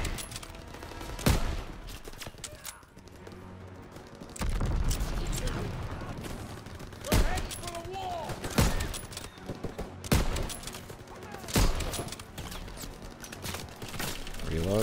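Gunfire in the Call of Duty: WWII video game: repeated sharp shots and bursts with heavy booms, landing irregularly over a rumbling battle din.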